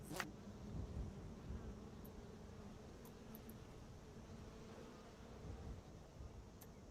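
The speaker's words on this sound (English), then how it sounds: "Lots of bees." Bees buzzing in the video game Skyrim, a steady, faint, droning hum of many insects with a few short high clicks over it and no speech.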